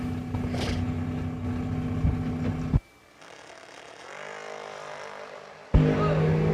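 Drag racing cars at a New Year Nationals event, among them a Camaro, roar loudly off the line, drop to a thinner distant engine drone mid-run, then another hard, loud burst returns near the end.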